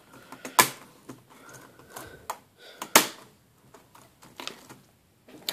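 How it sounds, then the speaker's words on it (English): A Dell Inspiron n5040 laptop keyboard is pressed back into place after RAM installation, giving a string of sharp plastic clicks and snaps, a few louder pops among softer taps, close and alone with no talking. "you let the keyboard hang down, and you press down on all of the points"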